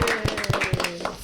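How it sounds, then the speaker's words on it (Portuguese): A few quick, evenly spaced hand claps at a 40th-anniversary CRB celebration in Piauí, close and brief, mixed with a speaking voice. "uma salva de palmas"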